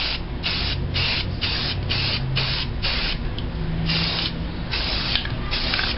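A spray paint rattle can sprays onto a gas can in repeated short bursts, a steady hiss broken by brief gaps in a regular pulsing rhythm, close and fairly loud with no talking.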